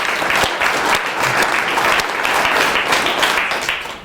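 An audience applauding for Terry at a speaking event, dense sustained clapping from many hands that stays loud throughout and begins to taper at the very end.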